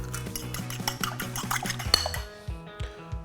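Two eggs whisked briskly in a bowl for a baking mix, a fork or whisk clinking steadily and rhythmically against the sides, close and fairly loud, with no talking.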